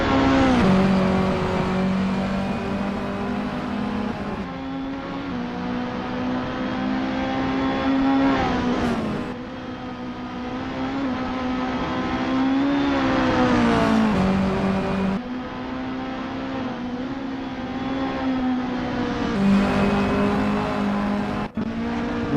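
Mini Cooper JCW race cars lapping Lime Rock Park in the racing game Assetto Corsa: sustained, loud engine drone that rises and falls through gear changes, with brief lifts and repeated revving up, and no voices.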